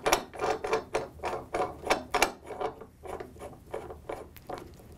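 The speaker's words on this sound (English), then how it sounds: "The special stage set is threaded into the Dow gauge base." A special stage set threaded into a Dow gauge base gives a series of close, rhythmic metallic rasping and clicking turns, about a dozen quick strokes that fade slightly toward the end, with no talking.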